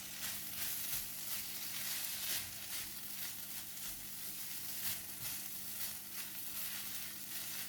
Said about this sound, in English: Give it a stir and mix well until rice and seasonings are well combined.